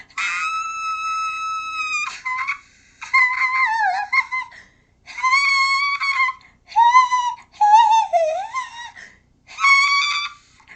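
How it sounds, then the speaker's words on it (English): A singer with a deep voice produces a series of high, thin whistle-register notes, some held steady and others sliding in pitch, sounding as six or so separate bursts with short silences between. "That's how you can get a whistle note, even if you may have a deep voice like mine."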